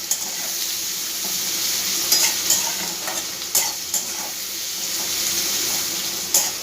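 Chopped onion, garlic and green chili frying in oil in a pan, a continuous close sizzle broken by several sharp scrapes and knocks of a spatula stirring, with no talking.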